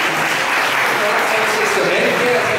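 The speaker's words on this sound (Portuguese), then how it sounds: "Aplausos para as meninas aqui." Steady applause from a church congregation fills the space, a dense wash of many hands clapping at close range, with voices mixed in beneath.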